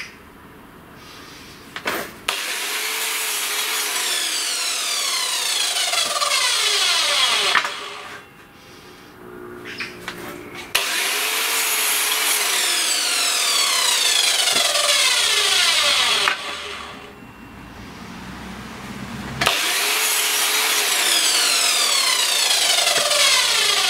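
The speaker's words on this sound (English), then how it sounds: "so I'm going to square these up on the miter saw" Miter saw squaring up roughly jigsawed pallet wood boards for a traditional bird table, three loud close cutting passes, each with a motor spin-up, a whining cut through the wood and a wind-down, separated by short pauses.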